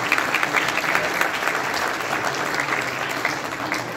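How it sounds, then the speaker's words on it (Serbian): Applause for a doctor at a municipal sportsperson-of-the-year awards ceremony, a steady crowd clapping for about four seconds, fairly loud and sustained without a break. "a to aplauz za doktora."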